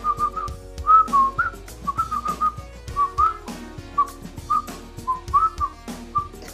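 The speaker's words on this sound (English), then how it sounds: "Me, I cannot whistle, but let me just try." A person attempts to whistle, producing a series of short, wavering, breathy whistled notes in an uneven rhythm, close and fairly loud with no talking.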